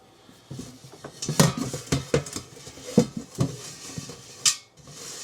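A metal strainer is set over a pot during bee mite sampling, giving a series of close metallic clanks and scrapes, several sharp knocks spread unevenly with quieter rattling between them.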